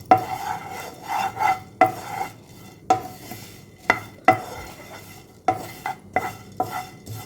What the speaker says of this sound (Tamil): இப்போ அடுத்தது பொரியை வறுத்துக்கலாம்.